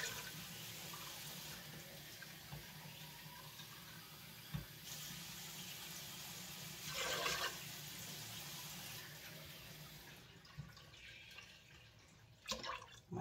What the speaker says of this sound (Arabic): دابا غادي ندير جوج كرتان ديال الماء ونشوف واش يكفيني ولا لا